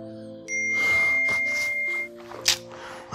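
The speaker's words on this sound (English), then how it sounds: "My phone is beeping." A phone notification chimes with bell-like tones over a low steady background, followed by a sharp bright ding near the end.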